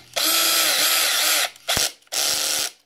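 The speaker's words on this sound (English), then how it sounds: "that click is the spur letting go so you don't over torque it and strip out plastic" Slipper clutch on a Traxxas X-Maxx RC truck lets its plastic spur gear slip against the steel pinion, giving three loud, harsh, ratcheting buzzes of about a second each, separated by short pauses.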